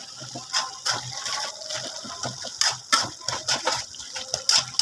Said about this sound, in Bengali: পরিমাণ মতো পানি দিয়ে দিবেন